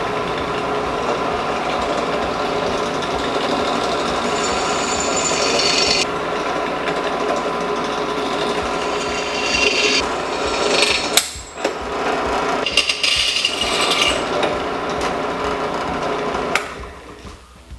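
A drill bores a row of holes in a shortened motorcycle muffler on a Maxim XJ650 cafe racer, a steady close whirring grind with scraping and brief clattering bursts toward the end, with no voices.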